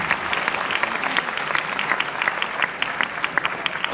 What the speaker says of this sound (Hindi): मैं चाहूँगा कि एक दफ़ा आप अपने लिए भी तालियां बजाएं